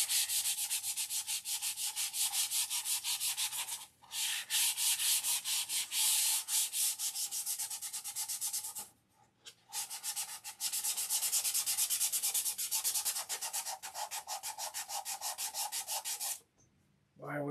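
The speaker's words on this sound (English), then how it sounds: "Sanding." Steady hand sanding on wood, a rhythmic scratchy rubbing that continues with two short pauses, close and fairly loud.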